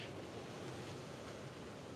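Ocean waves crash steadily against rocks, a continuous broadband wash of surf with wind noise mixed in, loud and unbroken throughout with no distinct individual breaks.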